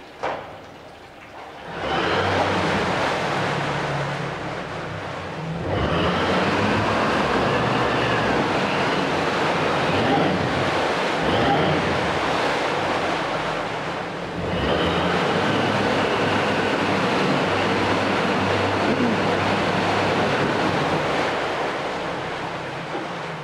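A 2013 Suzuki 90hp four-stroke outboard boat motor with 20-inch shaft and remote controls runs in a test tank, giving a loud, dense, continuous roar that dips briefly and surges back in two steady stretches.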